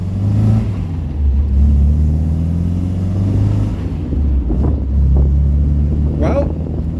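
An MGB on its first drive after a service, the engine revving up in loud close pulls with gear changes between them, wind buffeting the microphone and someone talking over it.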